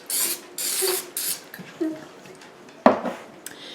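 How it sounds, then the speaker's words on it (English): Several short hissing bursts from an olive oil cooking spray can onto tortillas in molds, then clinks and shuffling of kitchen items nearby. "olive oil spray and spray them lightly"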